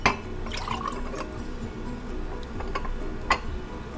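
Syrup from canned ripe mangoes is poured into a glass or bowl in a soft, thick trickle with faint drips and a couple of light clinks, close and quiet, and no voices.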